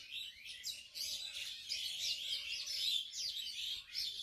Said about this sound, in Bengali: পাখিদের কিচির মিচির ডাক